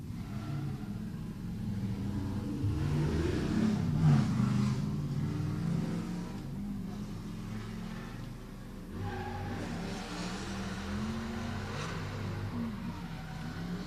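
Drift cars run a tandem battle at a drifting competition, with an engine roaring and revving in a sustained rumble that swells and dips, heard at a moderate distance with no talk.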